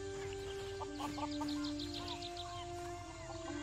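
Ducks quacking in the video game Skyrim VR near a stable, a short run of repeated calls rising over a steady ambient background of game music and drones, no talking.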